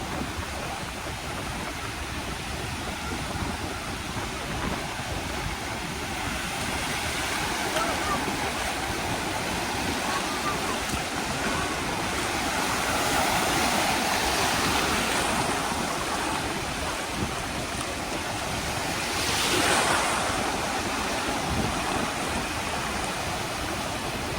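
Sea waves wash onto the shore at a Caspian seaside resort on a windy day, a steady close rushing surf that swells louder around the middle and again near the end.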